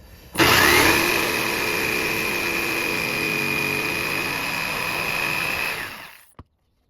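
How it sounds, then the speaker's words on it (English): A power tool cuts a notch into a piece of wood in a home workshop, a loud steady whine and rasp running for about six seconds before stopping abruptly, with a brief click afterward. "I'm going to try to cut the notch out and not have too much of a bad cut."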